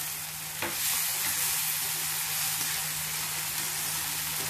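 Ridge gourd with moong dal and coconut paste fries in a pan, giving a steady, close, dense sizzle with a low hum beneath and one short stir near the start.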